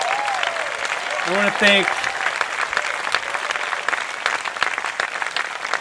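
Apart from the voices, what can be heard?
audience applause at film festival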